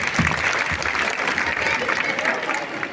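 Audience applause at a school annual function marking a silver jubilee, a dense steady clatter of many hands clapping that holds at full level for the whole stretch, with a murmur of voices mixed in.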